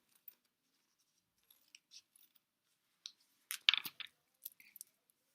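Scissors snip through folded tape in a quiet room, a scattering of faint, sharp cuts and clicks, sparse at first and then clustered near the end.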